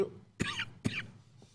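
Two sharp, fairly close coughs from an adult in an indoor setting, spaced about half a second apart, followed by a fainter trailing sound.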